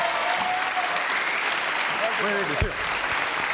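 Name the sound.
audience applause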